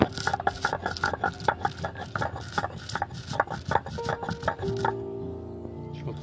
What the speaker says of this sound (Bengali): ভাজা মশলাগুলো আমি গুঁড়ো করে নেব